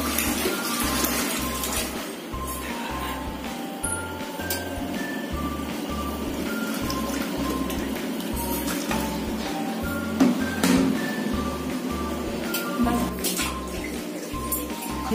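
A DMR mini washing machine churns clothes in rinse water, giving a steady, rhythmic pulsing motor hum with water sloshing throughout, close and continuous.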